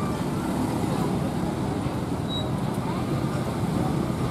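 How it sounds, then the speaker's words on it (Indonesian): Buses maneuvering at Kampung Rambutan bus terminal in Jakarta, heard as a continuous dense wash of engine and traffic noise at moderate distance, with no distinct single pass standing out. "Kita lihat bis-bis bermanuver."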